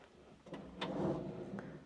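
A drawer in a Hyatt Regency hotel room in Birmingham sliding open, a quiet, close rumbling slide with a couple of soft knocks.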